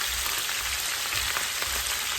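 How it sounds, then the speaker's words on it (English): Beef pieces searing and browning in a pan for stew, a steady dense crackling sizzle with a low spitting undertone, close and continuous, with no talk. "Now that my meat has seared and just browned a little bit"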